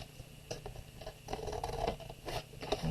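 Scissors snip through strips of a handmade woven bowl in a series of short, close cuts and crisp scrapes, spaced unevenly with brief pauses between snips.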